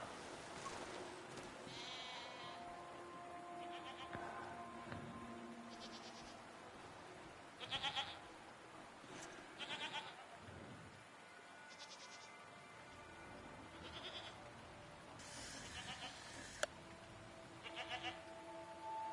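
Goat-like creatures in SEASON: A Letter to the Future bleat several times at scattered moments over a tonal game soundtrack and soft background ambience.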